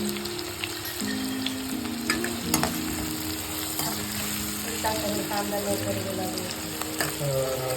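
Chopped onion fries with salt in a pan for a methi aloo sabzi, giving a steady, close sizzle with scattered crackles and occasional stirring throughout, alongside faint tonal background sounds.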